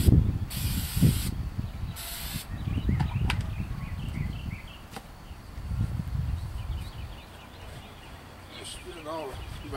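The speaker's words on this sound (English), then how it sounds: "So what I got is some wax and grease remover. Spray these sides down." Wax and grease remover sprayed from a can onto the sides of an engine block during a 383 stroker block teardown, two sharp hissing bursts and a fainter spray, with someone talking through and between them.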